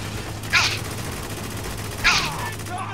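Two short bursts of turret machine gun fire from the video game Spec Ops: The Line, well separated and fairly distant, over a steady low hum of game background noise.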